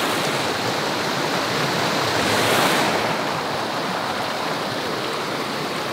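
A brown, rain-swollen river rushes in the Philippine mountains, a broad steady roar of flowing water close by, with a slight swell in the middle and no talking.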